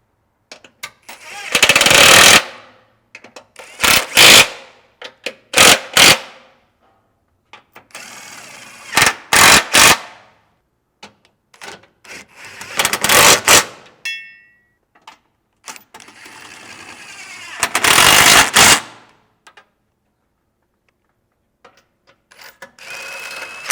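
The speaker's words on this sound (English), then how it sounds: "Next, we're going to go through and tighten down all of the factory hardware on the gas tank skid plate." A power tool tightens the factory hardware bolts on a Jeep JL Wrangler gas tank skid plate in about six loud rattling bursts of a second or two each, separated by silent pauses.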